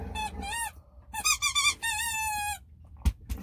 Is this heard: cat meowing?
no